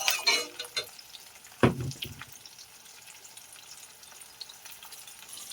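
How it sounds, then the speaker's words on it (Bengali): Chopped tomato fries in hot oil in a pan on top of reddened onion, with soft sizzling that opens with a few bursts of stirring and then settles to a faint, steady crackle. "টমেটোটা ভাজা হয়ে গেছে,"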